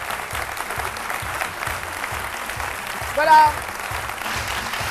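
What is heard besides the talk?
audience applause welcoming a TV guest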